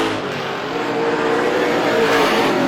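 Outlaw race cars roar around the oval at Star Speedway, a steady loud drone of several engines racing together with no pause.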